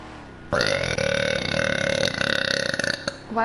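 A woman streaming GTA lets out one long, loud burp that rumbles steadily for about two and a half seconds, close to the microphone.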